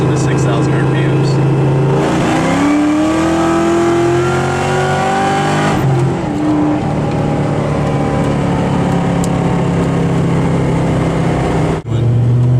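Kenne Bell Mustang on nitrous in a third gear pull from 3,000 to 6,000 RPM, the engine note climbing loudly and steadily before shifting, then droning on, close and dominant with a voice faintly underneath.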